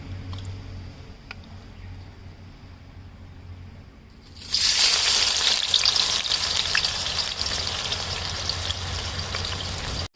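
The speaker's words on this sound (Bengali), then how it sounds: "এবার আমি বিরিয়ানির জন্য বেরেস্তাগুলো ভেজে নেব" Chopped onions hit hot white oil for biryani birista, erupting from a quiet kitchen into a loud, steady, close crackling sizzle that holds for several seconds without any talking.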